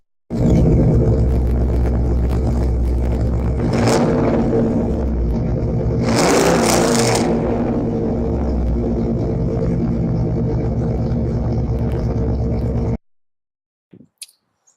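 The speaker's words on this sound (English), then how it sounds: "What does a 400 horsepower LT1 sound like?" A 400-horsepower LT1 V8 in a 1992 Firehawk revs loudly and close up, a deep steady idle rumble swelling into two sharp throttle blips before cutting off, with a brief faint knock afterward.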